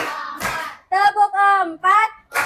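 Children in a classroom chant in unison, with a couple of sharp, broadband hand claps near the start and the end of the clip.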